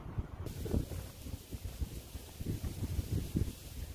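Wind buffeting a microphone outdoors on a hilly disc golf course, a steady loud rumbling roar with gusty swells throughout, no voices.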